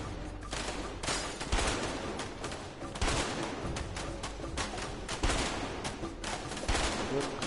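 Rapid bursts of gunfire crackle in a video game shootout in A Way Out, with repeated sharp volleys and a sustained barrage throughout, loud and close.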